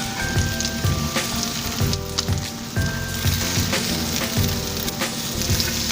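Salmon croquette patties fry in a pan with a loud, constant sizzle and popping crackle. Oil spatters in irregular bursts throughout, and no voices are heard.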